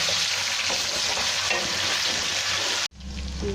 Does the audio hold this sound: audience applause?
no